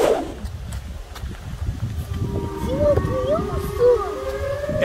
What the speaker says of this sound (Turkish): Evet, duyuyorum. Siren sesi.